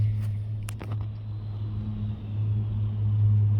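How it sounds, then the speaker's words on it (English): A Lockheed C-130 flies low overhead, a steady, loud droning engine rumble that swells slightly toward the end, with a few faint clicks early on. "C-130 passed over pretty low and is extremely loud."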